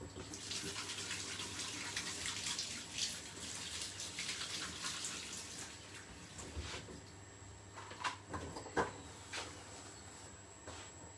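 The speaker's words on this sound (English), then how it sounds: "I'll give my asparagus a little wash." Tap water runs into a kitchen sink as asparagus spears are rinsed, a soft continuous splashing with irregular louder splatters and a few small clunks, fairly quiet and close, with no talking.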